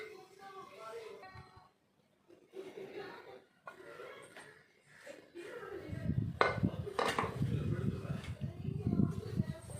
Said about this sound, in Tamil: இப்போ நம்ம குக்கரை ஓப்பன் பண்ணிக்கலாம்.